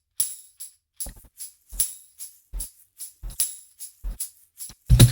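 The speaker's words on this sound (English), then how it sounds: "These are just Easy Drummer 3 shaker and tambourine tracks added in," Easy Drummer 3 shaker and tambourine percussion tracks, rendered down, play alone as a sparse rhythmic pattern of crisp, bright jingles and shakes, with a few soft low thumps and a louder hit at the end.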